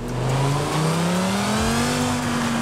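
Lamborghini Huracán STO engine in Forza Horizon revving steadily, a loud sustained rising tone climbing in pitch as the engine accelerates, heard alone.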